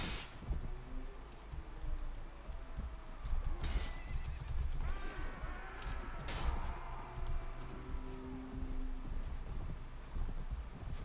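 A horse in the video game Mount & Blade: Warband neighs and whinnies repeatedly over steady clip-clopping hooves and busy battle noise, the calls rising and falling across the scene with no speech.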